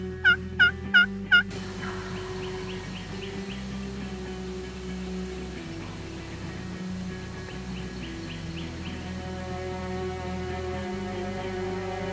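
Wild turkeys gobble during a Florida turkey hunt: four loud, quick gobbles burst out close together at the start, followed by fainter distant gobbling and bird calls over a steady low outdoor hum.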